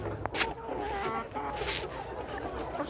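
Sixteen-week-old Nourish pullet hens, ready for laying cages, cluck in a steady chatter of overlapping calls, with a brief louder squawk near the start and a little background noise.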